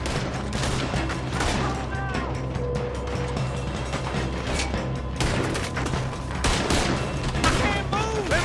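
Red Dead Redemption 2 gunfire during a train robbery crackles through a busy mix of mechanical clatter and rumbling, shots scattered irregularly at moderate loudness amid game sound effects.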